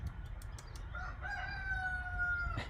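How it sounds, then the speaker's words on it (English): A rooster crows on the far side of a house, a long, drawn-out call rising and then holding steady. It sounds moderately distant over a constant low background rumble, with a few faint clicks before it. "What's up with that rooster?"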